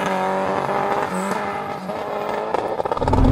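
A Fiat 600 fitted with a 155-horsepower 1400 Jet Abarth engine drives hard, a loud, steady engine drone with shifting pitch that swells into a rougher, louder surge at the end.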